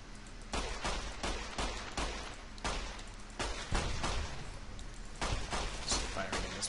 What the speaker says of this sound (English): He's firing at this point.